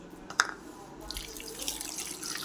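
Two glasses of water splash softly into a pot, with a single drip-like tap near the start followed by a quiet, continuous running trickle.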